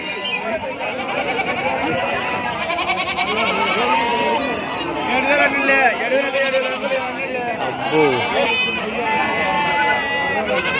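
Goats and billy goats at a weekly village market in Gudur, bleating repeatedly and overlapping in a dense chorus, close and loud, with market chatter and voices talking throughout.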